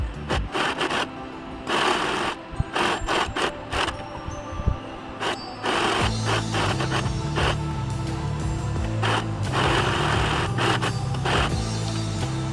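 Sewing machine stitching the lining and main cloth of a silk skirt together, a steady close mechanical whir running continuously in the second half after scattered rubbing and handling noises.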